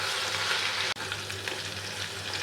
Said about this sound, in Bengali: এটাকে যতক্ষণ না ভাজা ভাজা হচ্ছে, তেলটা ওপর থেকে ভেসে আসছে, ততক্ষণ পর্যন্ত এটাকে নেড়ে যেতে হবে, ভাজতে হবে।